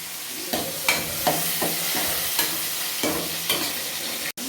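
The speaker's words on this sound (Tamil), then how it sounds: "இப்போ 2லேயும் போட்டு வதக்கிக்கலாம்" Sizzling food in a pan with repeated stirring scrapes at a steady rhythm, close and fairly loud, with no talking.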